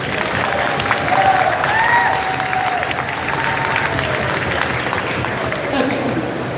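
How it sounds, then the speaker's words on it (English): Fireside-chat audience at a Miami NFT week event applauding and cheering for Timbaland, a sustained broad roar of clapping with a few faint whistles and voices mixed in, steady and loud throughout. "huge round of applause for Timberland"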